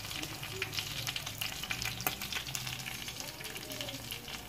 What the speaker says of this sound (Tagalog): Yung iba ay pinipirito ko na.